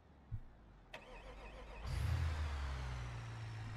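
A Burnside car's V8 engine cranks and catches after a couple of faint clicks, then settles into a loud, steady low rumble that holds to the end.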